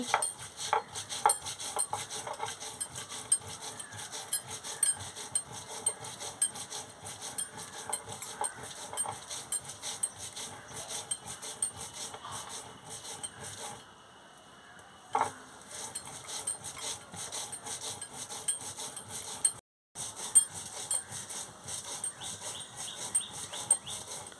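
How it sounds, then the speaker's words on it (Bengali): Cumin and ginger are ground together by hand for a tilapia fish curry, giving a close, steady, rhythmic scraping and grinding that runs on with only a brief pause near the end. "জিরে আদা একসঙ্গে বেটে নিচ্ছি।"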